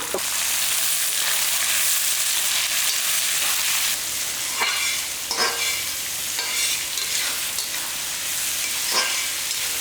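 Large onions and small shallots fry in a pan for gongura chicken, with a steady, close sizzle broken by repeated scraping stirring strokes every second or so.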